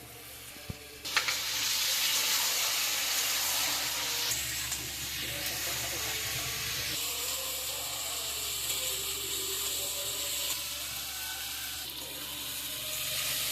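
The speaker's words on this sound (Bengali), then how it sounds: "এবার আমি ভাজা পটল আর আলুগুলো দিয়ে দিচ্ছি" Fried pointed gourd and potatoes hit hot oil and spice paste, with a steady loud sizzle and crackle that continues throughout, along with faint stirring and scraping.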